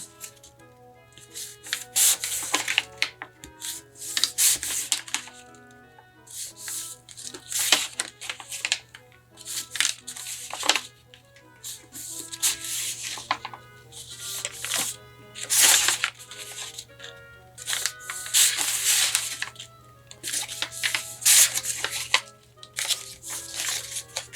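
Paper bag being creased and folded into strips for a basket: repeated crisp crinkling and rustling bursts, close and fairly loud, spaced irregularly over a low steady background hum.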